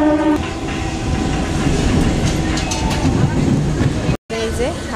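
A train running into Howrah station, with steady rumbling and rattling of the carriages, a few brief squeals and a short break near the end, heard up close from on board.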